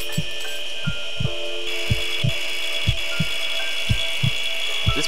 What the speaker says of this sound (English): This bone saw, definitely the way to go when it comes to sawing open ribs